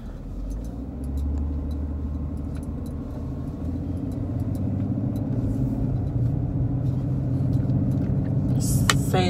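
A car drives steadily with a low engine rumble and road noise throughout, faint clicks and rattles inside the cabin, and a brief bright rattle near the end.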